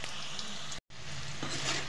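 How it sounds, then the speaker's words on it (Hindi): Potatoes frying in a pan for chicken masala, a steady close sizzle that cuts out for a split second and then resumes, with no talking. "आलू हमारा फ्राई हो गया है"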